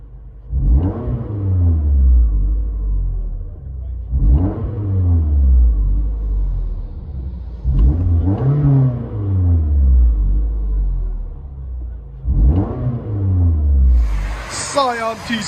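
Engine of a Scion tC 2.5L with a Borla S-type exhaust revved hard four times, heard from inside the car, each rev rising in pitch then falling back to a low rumble, loud and close.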